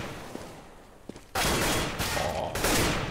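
Counter-Strike gunfire during an ESEA Invite match on de_nuke: after a quiet stretch, a sudden loud burst of rapid shots erupts and keeps rattling in dense volleys to the end.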